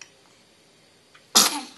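A little girl sneezes once near the end, a sharp, loud, close burst after a mostly quiet stretch with faint rustle.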